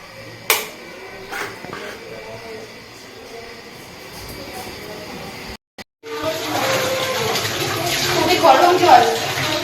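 Water runs into a basin for a bath, starting abruptly after a brief silence and continuing as a steady, fairly loud splashing rush, with faint household sounds and a voice before it.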